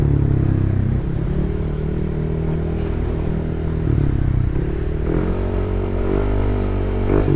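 A Yamaha NMAX B1 scooter with a JBT version 3 exhaust pipe, freshly broken in on a new block, revs loudly and steadily up close, holding a throaty drone with a couple of short throttle dips and rises.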